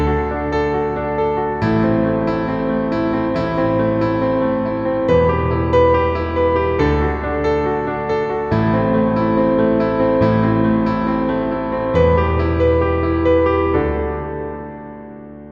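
Piano playing block chords in root position, a steady rhythm of full, ringing chords struck at regular intervals, close and alone, with the last chord decaying away.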